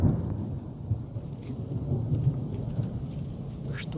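A heavy thunderclap rolls continuously over steady rain outside a cabin on a stormy day, a dense low rumble filling the whole stretch with the patter of drops on top.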